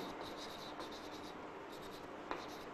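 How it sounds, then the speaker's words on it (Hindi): A pen or chalk writes on a board during a chemistry lesson, faint scratchy strokes coming in short repeated bursts, with a small tap near the end, quiet and alone. "मैं इस बात को लिखता हूं"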